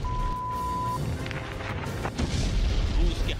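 Explosions from a Russian warship shelling Snake Island, heavy booming blasts rumbling over steady background noise, with several bursts building toward the end.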